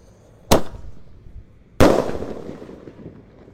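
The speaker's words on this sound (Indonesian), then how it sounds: "menyalakan banyak sekali mercon dan petasan yang baru-baru" Two sharp, loud firecracker blasts about a second apart at night during Ramadan, each a crisp crack followed by a decaying rumble, heard alone.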